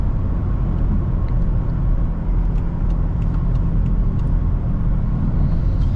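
A 2018 BMW X5M on a test drive produces a loud, constant engine rumble and road roar from inside the cabin, steady and unbroken with only faint ticks on top.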